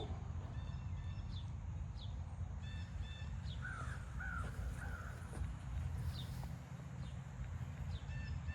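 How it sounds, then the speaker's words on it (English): Crows caw repeatedly from a distance, in scattered calls over a steady low rumble of outdoor noise. "The crows are out in force. I can hear them"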